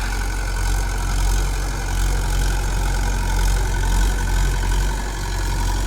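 A 2000-model Mahindra 575 tractor engine running while pulling a 9-tyne cultivator, a steady, loud, low diesel rumble with a constant throb and no voices.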